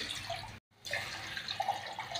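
Water trickles and splashes steadily into a pan, two bowls' worth for upma, quiet and close, with a brief break partway through and no talking.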